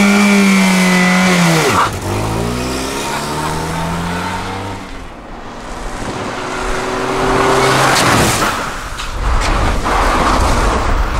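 A $500 beater car's engine revs hard for a neutral drop, pitch climbing and falling through repeated surges, loud and close with a brief screech of tires.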